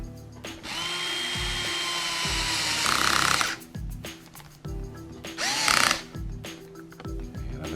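A power screwdriver drives the motor mount screws on a Traxxas XO-1 RC car in several short, loud whirring bursts, separated by brief pauses and clicks of the tool.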